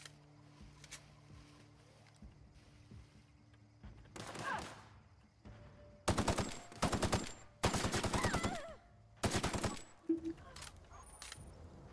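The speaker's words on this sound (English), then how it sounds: "Don't run directly at the man shooting you, Parvati." Gunfire in the video game The Outer Worlds comes in several loud, sharp bursts of rapid shots in the second half, after quieter game ambience and movement sounds.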